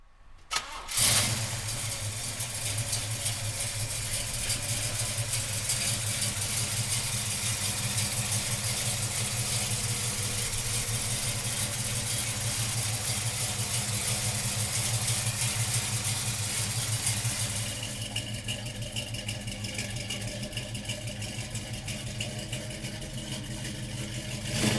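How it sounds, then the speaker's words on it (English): A 1966 Chevrolet Chevelle big block V8 cranks and fires, then settles into a loud, steady idle that lasts for more than twenty seconds and eases slightly lower near the end. "So come on up and we'll fire this big block up for you right now."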